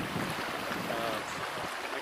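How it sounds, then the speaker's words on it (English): Outdoor stream water flows steadily at a level a little higher than usual, a dense continuous wash of rushing noise that fills the scene without pause and with no voices. "I don't know if you can hear the water in the background."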